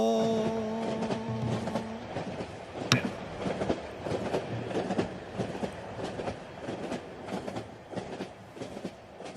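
A train clatters past at Namyeong-dong as a sound effect at a concert, with rhythmic wheel clicks and rumbling rolling steadily at moderate volume and a sharp clank partway through.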